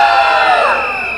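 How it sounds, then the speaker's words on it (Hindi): A crowd at a musical night, split into boys' and girls' sides, cheers and shouts together in a loud, continuous roar that fades slightly toward the end. "अब बारी है क्राउड की आवाज की।"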